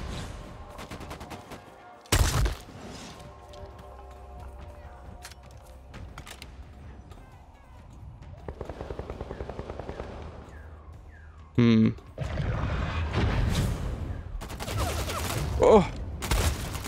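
Scattered gunshots and bursts of fire from the vampire battle-royale game Bloodhunt punctuate mechanical game noises, with a couple of sharp loud blasts and a speaking voice present at times.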